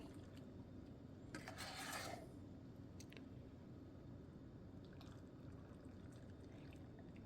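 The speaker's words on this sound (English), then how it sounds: "Just pouring in the brine is the last step here." Hot pickle brine poured into a glass jar, a quiet continuous liquid hiss with a brighter splashing burst about two seconds in, then soft trickling and faint clinks over steady low background noise.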